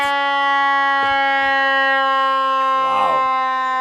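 Attleboro Memorial Day parade sirens wailing loudly and continuously close by, with brief knocks and a short crackling burst of noise near the end.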